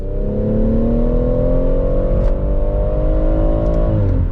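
A BMW M140i engine revs hard, its note climbing steadily in pitch for about four seconds, loud and close with no talking, then dropping away at the end.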